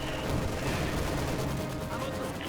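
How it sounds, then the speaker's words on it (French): Enemy gunfire in a WWII shooter video game, a dense continuous rattle of distant shots and machine-gun bursts blended into a noisy battlefield din, moderately loud with no clear single shot standing out. "Voyez-vous, l'ennemi tire."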